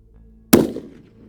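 Single rifle shot fired at bottles outdoors during a thermal scope test, one sharp loud crack followed by a short decaying echo.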